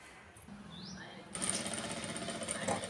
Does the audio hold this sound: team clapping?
no